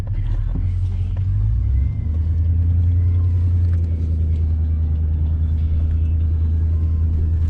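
A skid loader with forks drives a short stretch across a farm toward the pasture, its engine a loud steady low rumble throughout with a brief shift in pitch near the start.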